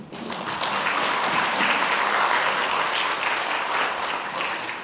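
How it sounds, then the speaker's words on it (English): An audience gathered for the opening of an evolution lecture series applauds in honour of Dr. Sidney Brenner, giving a full, even round of clapping that holds steady throughout. "Please join me in giving an applause."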